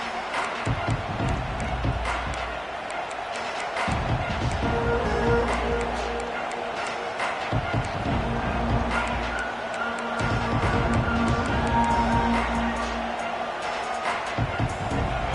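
In the College Football 26 video game, a stadium crowd gives a steady, roaring cheer that swells in waves beneath play-by-play commentary.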